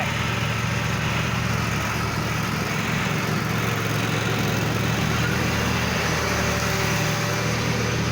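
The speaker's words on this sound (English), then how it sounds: "See, there's Granddaddy mowing away." A lawn mower runs steadily across a field outdoors, a constant engine drone filling the whole stretch with no pauses or talk.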